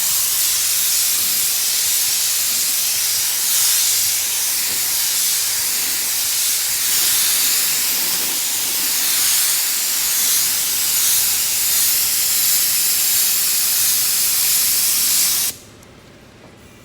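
Spray gun laying down a first coat of paint on a fiberglass repair, a loud steady hiss of atomized spray running nearly continuously before cutting off abruptly near the end.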